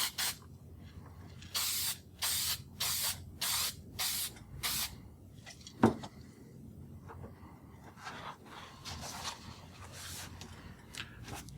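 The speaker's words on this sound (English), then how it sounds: "Do my test spray." Bursts of aerosol spray paint hissing out in a rhythmic series of short sprays, then a louder knock followed by softer, scattered spraying.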